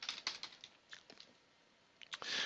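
Scattered clicks and taps on a computer keyboard, an irregular burst of keystrokes at the start, sparse presses through the middle, then a louder flurry at the end, close and fairly faint with no voice.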